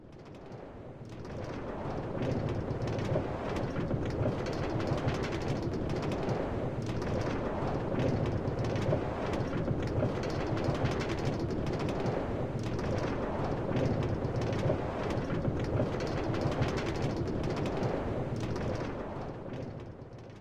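A New York City subway E Express train, bound for Jamaica Center–Parsons/Archer, runs with a steady, dense roar and rattle that holds without a break for about twenty seconds.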